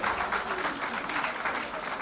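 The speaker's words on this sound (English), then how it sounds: "A big round of applause for the team and everybody associated with this" Brief, fairly soft round of applause from an audience at an International Women's Day event on a university stage, even and sustained without talk.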